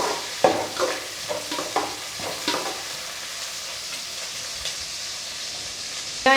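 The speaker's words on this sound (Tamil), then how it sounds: "நம்ம எடுத்து வச்சுருக்க சின்ன வெங்காயத்தை சேர்த்துக்கலாம்." Small onions and curry leaves sizzle and fry in hot oil for a Tamil fish curry. Near the start a few stirring scrapes cut through the sizzle, and then a steady close hiss continues, with no talking.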